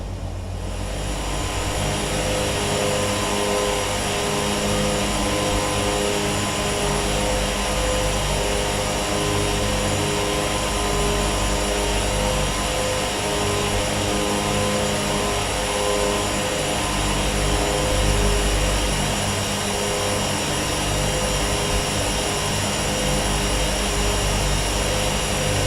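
The turboprop engines of a Beechcraft Duke in a flight simulator hum in a steady, constant drone while it taxis at Ketchikan airport with the power lever eased out of beta. The whine stays even and unbroken the whole time, with no talk.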